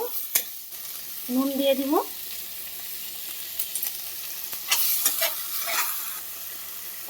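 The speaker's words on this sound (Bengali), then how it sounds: "এবার চিংড়ি মাছ কুচোনোটা দিয়ে দিব, এর সঙ্গে ভেজে নেব।" Chopped prawns frying with onions in a pan, a soft sizzle with stirring scrapes and a few sharp clinks, while a person speaks briefly.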